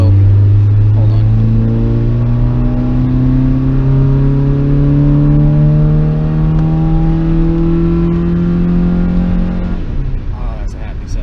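A 2003–2006 Honda Pilot engine with a short ram intake revs up steadily and holds a rising drone near the mic for about ten seconds, then drops off.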